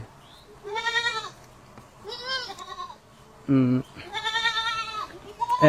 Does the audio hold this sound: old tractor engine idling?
no